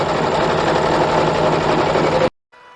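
An embroidery machine stitches a design in the hoop on a travel tissue pack cover, running as a steady, loud, dense mechanical whir for over two seconds before it stops abruptly, leaving only a faint hum.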